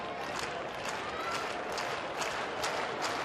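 Baseball crowd at Coors Field clapping in unison for two strikes, a dense rhythmic patter of many hands, steady and fairly distant.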